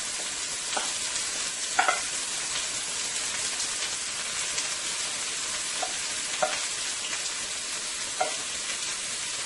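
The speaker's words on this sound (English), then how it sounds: "I'm going to add the remaining onions to the pan, the chili pepper, and the garlic" Onions, chili pepper and garlic fry in a pan for a Guyanese eggplant and shrimp stew, a constant hiss of sizzling oil with occasional faint spoon taps and no speech.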